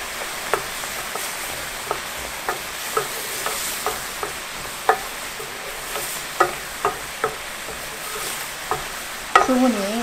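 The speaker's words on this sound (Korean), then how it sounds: "수분이 날아가게 이렇게 저어주세요" A pot of peanut syrup is stirred over medium heat to cook off water, a spoon scraping in regular strokes about once a second over a soft bubbling sizzle, close and moderately loud with no talk.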